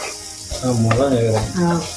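Onions sautéing in a pan for a Tamil-style fried chicken roast give a steady, close sizzle over about two seconds, with a tonal hum layered beneath the frying.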